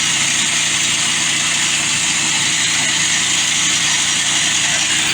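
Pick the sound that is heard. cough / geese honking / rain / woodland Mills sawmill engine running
woodland Mills sawmill engine running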